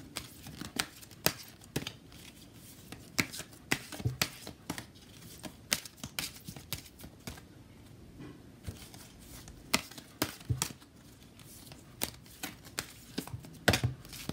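A deck of oracle cards is shuffled by hand, making faint, irregular papery riffles and flicks that repeat in quick bursts throughout.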